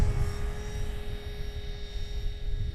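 An RC helicopter flies overhead with a steady, droning rotor and engine whine that holds at a constant pitch throughout. A low, rumbling buzz runs underneath, with no speech.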